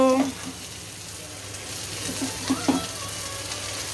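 Spices frying in a pan while pasta is being made, a steady close sizzle and crackle running through the whole stretch, with a couple of brief sharper pops or stirring sounds near the end.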